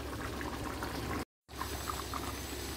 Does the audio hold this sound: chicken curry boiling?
yes